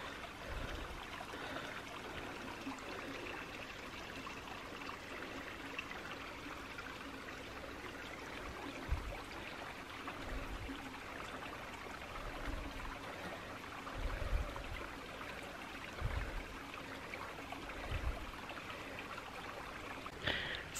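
The glacier-fed Ohana River flowing, a steady, quiet wash of rushing water heard from a distance, with a few soft low thumps and no voices.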